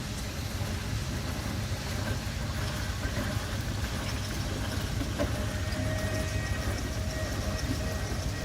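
A steam engine train runs steadily at a farm show, a continuous low mechanical rumble and rolling rattle holding close and loud for the whole stretch, with no talk over it.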